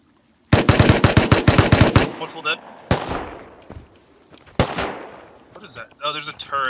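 Automatic turret fire in a video game, a loud rapid burst of shots followed by scattered single blasts and impacts, close and sharp, with game voices mixed in.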